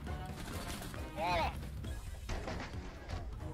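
Gunfire from a Rainbow Six Siege match lands a headshot, a sharp crack among game effects and a clear swept tone, followed by further scattered shots, with someone talking over the action.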